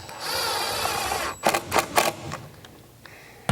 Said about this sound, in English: it's pretty tight with the impact driver with this long bit, but it does fit